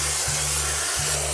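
Spray paint hissing onto a stain on a ship's hull in a kids' ship-building game, a steady loud airy spray with a low mechanical hum that briefly dips twice.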